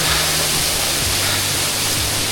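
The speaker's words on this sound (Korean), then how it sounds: "여기는 약간 비처럼 폭포가 물이 떨어지고 있어요." Water from a mountain waterfall at Meili Snow Mountain in Yunnan falls like rain onto trees, making a close, constant, dense hiss.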